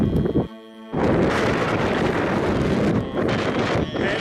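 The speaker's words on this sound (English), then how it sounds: "Headwind, going right into the wind." Strong headwind buffets a microphone while bicycle touring in Mongolia, a loud roaring rush that drops out briefly and then resumes, steady and alone.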